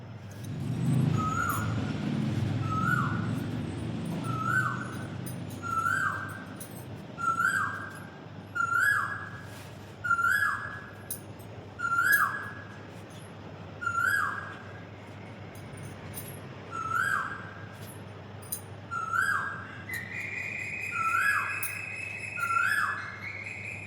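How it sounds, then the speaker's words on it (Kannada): An Asian koel calls in the early morning, repeating its rising two-note cry about a dozen times at a steady pace, moderately near over a quiet background with faint traffic hum. "ಈ ಬೆಳಗ್ಗೆನೇ ಈ ಕೋಗಿಲೆ ಸೌಂಡ್ ಕೇಳೋದೇ ಒಂಥರ ಚೆಂದ."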